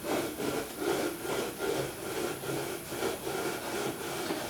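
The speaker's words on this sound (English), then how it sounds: "we'll take the edge of our board and we'll just kind of walk it over the top and scraping off the excess" Edge of a wooden board scraped across the top of a sand-filled metal-casting flask, a rhythmic gritty rasping of repeated strokes, close and fairly loud, with no voices.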